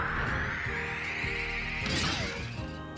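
A lightning hammer attack in Kirby Star Allies lands as a loud crashing, crackling smash with a rising electric sweep and clattering game effects, heard alone with no talk.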